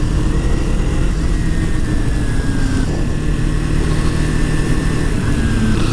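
Kawasaki Ninja motorcycle being ridden, its engine a loud, steady drone throughout with a gently wavering tone, close by and unbroken, no voices over it.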